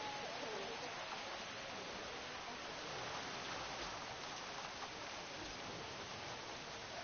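Rain falls in a video game as a faint, even hiss of steady rainfall with no distinct drops, continuous throughout and heard alone.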